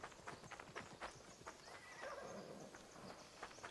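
A horse in Assassin's Creed Odyssey whinnies in a drawn-out neigh amid steady clip-clop hoofbeats, fairly faint and alone without talk.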